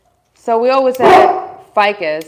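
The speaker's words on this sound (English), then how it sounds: "And that was our dog, which is joining us today too" A household dog barks indoors, a single sharp bark landing between stretches of a person talking close by.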